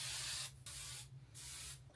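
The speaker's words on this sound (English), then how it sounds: "I'm gonna spray a little bit of hairspray." Hairspray hisses from an aerosol can in three quick bursts, with brief silent breaks between them, close and steady.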